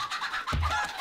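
A chicken in the 7 Days to Die video game gives a brief, close cluck, a short throaty burst with a quick low note, alone without talk.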